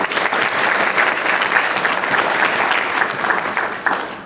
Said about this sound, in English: So please give them a round of applause for